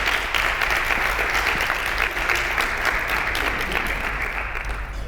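Sustained applause from an audience welcoming a speaker at a talk on data journalism in sport, a dense steady wash of many hands clapping for about five seconds without pause, even in level and unbroken by speech.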